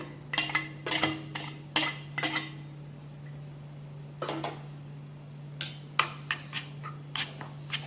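A spoon mixes cumin, turmeric, chili powder and salt into yogurt for a potato dish, giving a series of sharp scraping clinks against a bowl in uneven bursts over a low steady hum.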